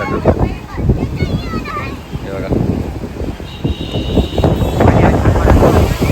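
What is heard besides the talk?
sea waves crashing in wind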